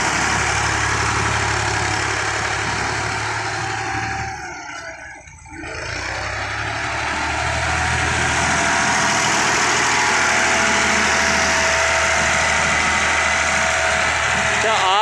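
A Ford 4610 4x4 tractor with a front blade runs loud and close, its steady diesel drone dipping briefly before climbing back to a constant heavy rumble.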